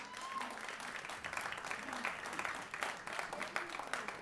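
Crowd at a Brockton mayoral candidate's campaign event claps in sustained, fairly faint applause, with scattered voices and cheers mixed in.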